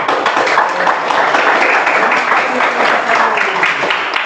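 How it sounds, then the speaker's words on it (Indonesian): A classroom applauds group 1, a dense, continuous wash of many hands clapping at close range, steady and fairly loud throughout the few seconds with some voices mixed in. "kita beri aplaus untuk kelompok 1"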